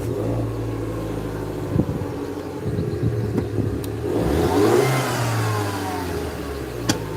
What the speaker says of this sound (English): I'll fire the engine up.